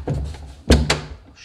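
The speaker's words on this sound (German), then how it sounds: "wir machen die Tür wieder zu" In an abandoned hotel, a door is pushed shut with a heavy, close thud, then a quick metallic click as the lock is turned. Both sounds come within a second and no one speaks.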